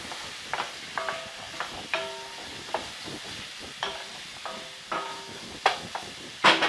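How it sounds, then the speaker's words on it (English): Whole spices sizzling in a pan over medium heat for palak paneer, with a soft steady frying hiss and recurring light scrapes and clinks as they are stirred. "So giving it another little stir."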